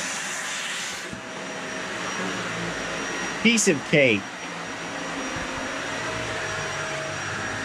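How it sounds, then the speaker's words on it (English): A full-size vacuum cleaner powered by a GOLDENMATE Orion 1000 battery station runs with a steady, loud motor roar throughout. A voice speaks briefly over it midway. "And then GOLDENMATE Orion 1000, run a full-size vacuum cleaner."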